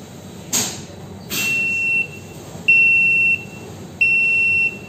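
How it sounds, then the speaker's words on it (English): Electronic alarm on a hydraulic pressure test bench with adjustable boost rate: a few short bursts give way to three steady, sustained beeps of about a second each, spaced evenly with short gaps, clear over a low room hum. "Alarm."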